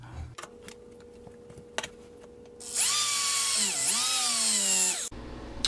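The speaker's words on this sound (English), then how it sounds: "I need to re-drill this hole out too." A power drill whines loudly for about two seconds, its pitch dipping under load as it bites in, then stops abruptly; faint clicks before it starts.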